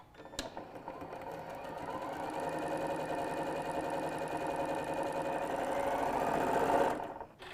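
A sewing machine runs continuously at a steady clip, stitching fabric strips with sheeny polyester thread at a 2.8 stitch length for a scrappy pouch, its rapid mechanical chatter close and even until it stops near the end.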